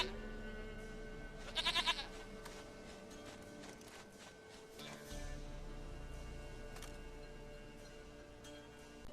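Goat in The Witcher 3: Wild Hunt gives one brief, quavering bleat early on, then ambient game sounds and a few soft taps continue.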